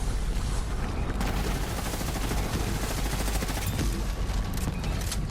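Gunfire in the Borderlands 3 video game, with a shoulder cannon firing amid dense rapid shots and blasts, loud and continuous throughout with no speech.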